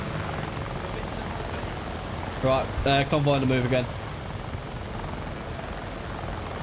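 Helicopter in the military video game Arma Reforger, a steady low rotor drone running continuously in the background with light patter over it, while a voice speaks briefly over radio partway through.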